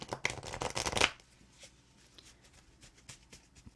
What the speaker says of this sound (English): Gotta love those shuffling noises.